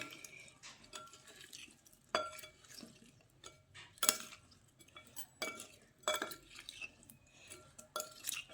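Spiced dry cauliflower being stirred and tossed in a pan, with a run of sharp utensil scrapes and clinks against the metal at irregular intervals over a quiet kitchen background.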